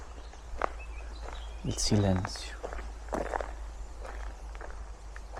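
Footsteps on a forest trail along the Camino de Santiago near Finisterre, a few distinct crunchy steps close by, with a voice speaking over them.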